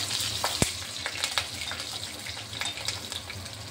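Black cumin seeds and green chillies frying in hot oil for a Malabar spinach dish, a steady close sizzle with scattered small pops and crackles, no voices.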